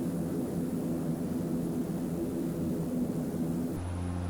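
A Saab airliner cruising on autopilot in the flight simulator X-Plane 11, heard as a steady, even engine drone with a constant hum and broadband rush, fairly loud and unbroken, shifting to a lower tone near the end.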